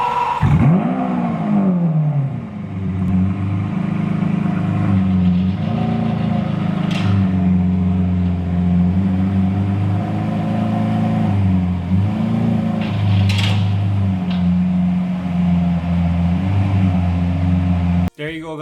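A stock-exhaust Lamborghini Aventador V12 supercar fires up from cold with a sharp rising bark, then settles into a loud, steady, rumbling high idle that holds close by for the rest of the stretch, ending in a brief click.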